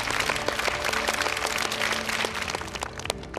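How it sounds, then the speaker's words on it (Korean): An audience of children claps for a teacher after a dinosaur science talk, dense lively applause filling the room at steady loudness throughout, with no voices on top. "선생님께 박수!"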